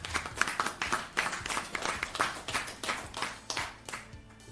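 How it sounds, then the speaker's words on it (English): Applause for a man at a Haitian political announcement, made of scattered, fairly sparse hand claps that pulse unevenly and stay moderately quiet, with no voices over them. "I ask us to give him an applause"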